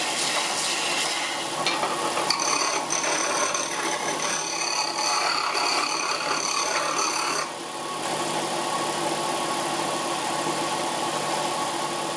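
An abrasive sander smooths a weld seam on a steel bandsaw stand, giving a steady, loud, continuous grinding whir with no speech and a brief shift in tone about two-thirds of the way through.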